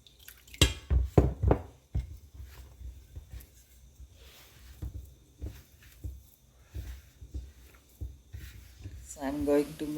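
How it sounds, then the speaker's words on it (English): Water trickles and drips into murukku dough in a bowl, a few clinking splashes early on, then soft scattered drips and stirring, close and faint. "So the water is to be added very carefully and very slowly"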